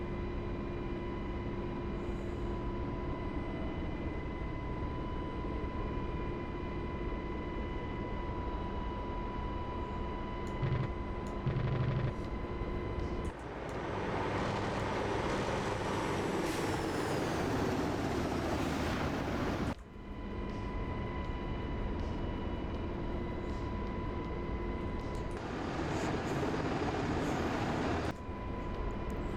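A training helicopter runs at full power, its engine and rotor making a loud, steady broadband roar that holds throughout and swells in two stretches.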